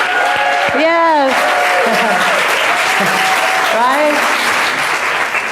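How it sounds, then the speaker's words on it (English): A church congregation at a Sunday celebration service claps in a steady, loud, continuous round of applause, with whoops and cheering voices rising over it. "give them another round of applause."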